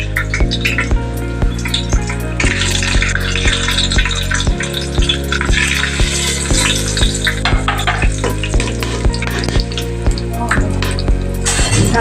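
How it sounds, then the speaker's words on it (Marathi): Loud, steady sizzling of whole spices tempering in hot oil for spiced rice, continuous crackle with occasional sharp pops, close by and without any talking. "आता मी भाताची फोडणी देत आहे"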